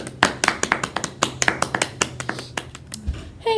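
An audience claps to welcome a guest, though only a few sharp, uneven hand claps stand out, close and fairly loud, thinning out before a brief rustle at the end.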